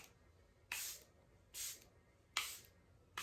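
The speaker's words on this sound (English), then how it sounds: "I'm going to be taking my Charlotte Tilbury Airbrush Flawless Setting Spray." Charlotte Tilbury Airbrush Flawless Setting Spray misted over a made-up face: four short, soft aerosol bursts spaced about a second apart, close and fairly quiet against a still room.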